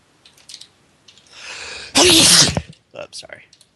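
A single loud, close sneeze bursts out sharply after a rising inhale, with quiet talk before and after it.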